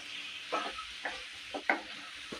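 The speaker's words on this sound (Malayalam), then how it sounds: "രണ്ട് മിനിറ്റ് നേരം നല്ലവണ്ണം മിക്സ് ചെയ്ത് ഒന്ന് വഴറ്റിയെടുക്കാം" Onion, capsicum, ginger and garlic stir-fried in a pan for restaurant-style chilli chicken: a quiet sizzle with about five distinct spatula scrapes at a steady pace.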